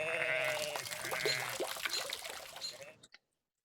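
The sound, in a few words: sheep bleating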